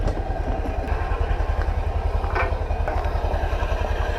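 A Honda Click 125i v2 scooter engine idles steadily up close, a low regular putter with a light mechanical rattle, continuous throughout with no voices.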